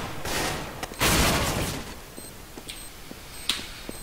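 AK rifle gunfire in a first-person shooter video game, two loud sustained bursts at the start followed by scattered sharper single shots, close and without talk.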